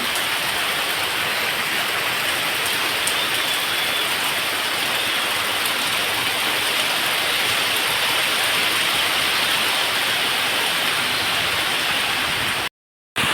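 Heavy rain falls steadily during the dry summer season, a dense, unbroken hiss of drops that stays loud and even throughout, then cuts out briefly near the end.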